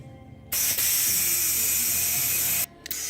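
An air compressor hose pushes air through the valve stem into a TaoTao Rhino 250 ATV tire, giving a steady loud hiss for about two seconds that cuts off abruptly, with no talking.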